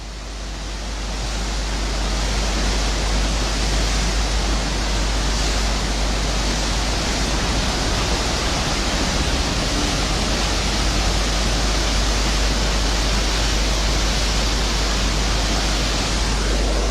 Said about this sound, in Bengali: সেই লক গেট দিয়ে কিন্তু ইতিমধ্যে হু হু করে জল বেরিয়ে যাচ্ছে